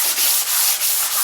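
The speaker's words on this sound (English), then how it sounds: "I just got some 600 grit here, which is really smooth. I'm just gonna run over with this flat block" Fine 600-grit sandpaper on a flat block rubbing over clear-coated stair wood, a steady hiss with soft rhythmic strokes about every third of a second, close and alone.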